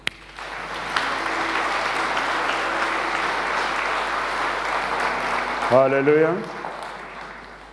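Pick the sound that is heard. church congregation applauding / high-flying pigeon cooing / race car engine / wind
church congregation applauding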